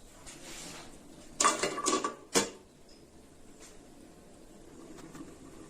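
A metal plate clanks onto a pot of brinjal and drumstick sambar in a few quick clatters, then quiet kitchen stillness follows.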